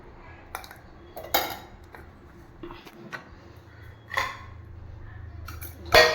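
A spoon clinks and scrapes against a bowl in a few scattered taps while yogurt is spooned in, close and fairly quiet, with soft kitchen clatter between.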